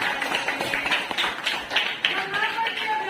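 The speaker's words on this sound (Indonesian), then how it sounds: "tepuk tangan dulu" A classroom of pupils clapping hands together in a teacher's lesson, uneven claps scattered through a steady room murmur, moderately close, with a few sharper individual hits standing out.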